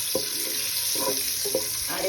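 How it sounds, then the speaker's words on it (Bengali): Eggs fry in hot oil with a steady, crackling hiss and a few brief spatters and clicks over a short stretch. "আমি ওই তেলটা গরম হলে ডিম কয়টা ভেজে নামিয়ে রাখবো"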